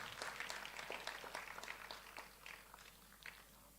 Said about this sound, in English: I think we can give a big round of applause to all of them